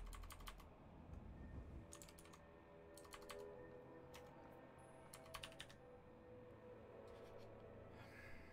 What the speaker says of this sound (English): I'm fucking typing down the bottom here